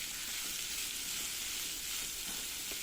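Two large chopped onions sauté in hot oil with a continuous close sizzle, a faint stirring scrape now and then, and no talking.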